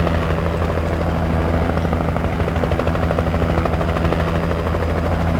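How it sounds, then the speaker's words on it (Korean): A helicopter in the video game Alan Wake flies close by, a loud steady rotor drone with a strong low pulsing thrum holding for several seconds, no talk over it. "어머나 헬기"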